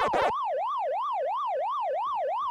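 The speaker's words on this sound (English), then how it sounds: "Things I hate about original Pac-Man though is like siren." A wavering arcade siren from the original Pac-Man game's background music rises and falls in a smooth, even, repeating electronic whoop, clear and steady after a brief noisy burst at the start.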